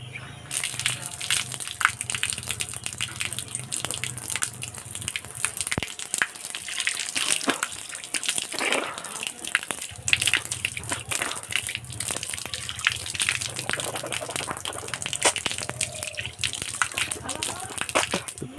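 Water runs steadily from a tap and splashes as someone washes their hands and face in the morning, close and continuous, with brief talk in the background.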